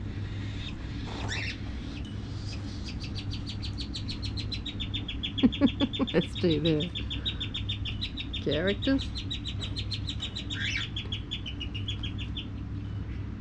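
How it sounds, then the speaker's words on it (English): Cockatiels in a bird aviary give a long run of rapid, repeated high chirping calls, steady and fairly close, with a low hum underneath and brief talk partway through. "The bird aviary, all the cockatiels."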